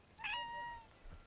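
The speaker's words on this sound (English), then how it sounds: "I figured out how to fucking meow." A single short cat meow from a player character in the fishing video game Webfishing, clear but fairly quiet against a faint background.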